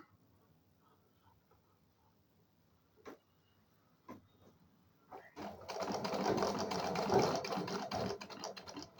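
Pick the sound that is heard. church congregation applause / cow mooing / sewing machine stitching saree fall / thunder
sewing machine stitching saree fall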